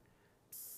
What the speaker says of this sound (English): I'm going to open it till I can get a spray.